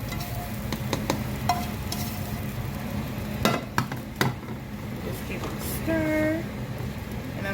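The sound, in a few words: cabbage stirred in fatback grease in a pan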